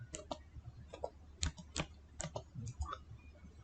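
Quiet, close typing on a computer keyboard under Windows 11, a short burst of light plastic key clicks in an uneven rhythm, with no one speaking.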